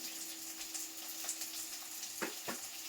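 Ingredients sauté with rock salt in a clay pot: a faint, steady sizzle runs throughout, with two short stirring scrapes near the end.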